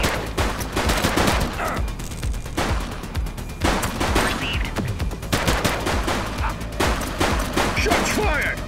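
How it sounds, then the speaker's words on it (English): Repeated bursts of gunfire in The Precinct police shootout, volleys of rapid shots in several clusters across the span, loud and close, with brief gaps between bursts. "Shots fired!"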